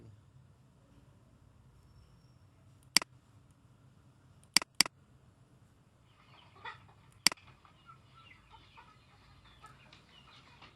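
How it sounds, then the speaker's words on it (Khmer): Caged chickens on a farm clucking faintly in a quiet setting, with scattered soft calls in the second half and a few sharp, isolated clicks or knocks. "នេះគឺជាមាន់ដែលខ្ញុំចិញ្ចឹមដាក់នៅក្នុងទ្រុង"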